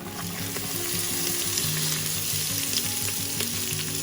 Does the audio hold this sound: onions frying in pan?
yes